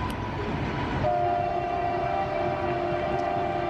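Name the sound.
locomotive train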